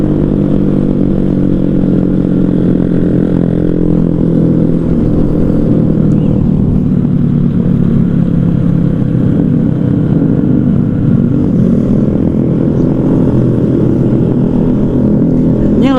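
Honda Sonic and Yamaha R15 motorcycles revving nearby, a loud continuous engine drone with rising and falling throttle that fills the whole stretch without pause.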